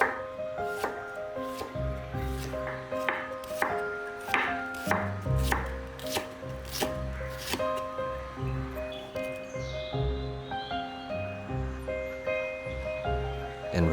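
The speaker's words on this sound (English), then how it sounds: "In the meantime, slice shallots," Shallots sliced with a knife on a cutting board, a quick irregular run of crisp taps over a low background rumble, close and steady throughout, no talking.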